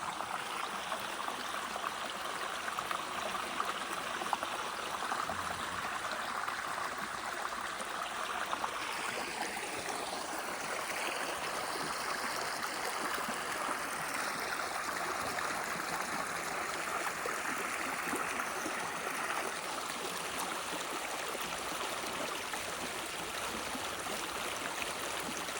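Steady rushing of flowing river water in Efland, North Carolina, a broad continuous wash with no voices, holding even throughout.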